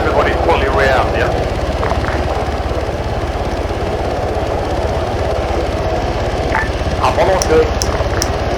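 Military helicopter engine in the game Arma 3, a steady loud rotor and turbine drone running throughout, with voices talking over it.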